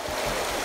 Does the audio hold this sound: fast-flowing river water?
yes